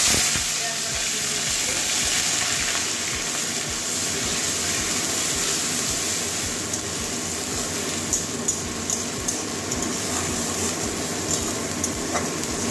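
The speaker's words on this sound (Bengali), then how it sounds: "পেঁয়াজটা ভালো করে ভেজে নেব, কাঁচা গন্ধ যাওয়া পর্যন্ত।" Steady sizzling of onions frying in oil, a continuous hiss with faint crackle, fairly close.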